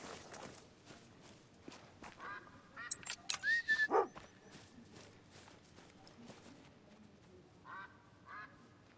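Wigeon ducks calling overhead in open country, with a few whistling calls in a short cluster amid rustling footsteps and movement, fairly near and moderately loud.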